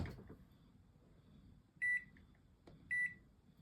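Two sharp electronic beeps from an oven control panel as it is set to preheat for baking cupcakes, about a second apart, loud and clear in an otherwise quiet kitchen.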